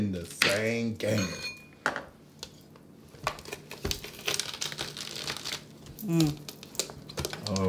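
Onions and green peppers being chopped in a Mueller MC 710 Pro Series multi chopper dicer, with sharp plasticky clacks and crunches scattered through the clip, heard alongside people talking.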